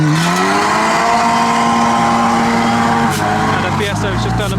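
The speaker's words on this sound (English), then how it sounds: "We have an arrival of an R33." A modified Nissan R33 rolls into a car park meet, its engine droning with a rising then steady tone and a throttle blip near the end, over crowd chatter and ambient noise.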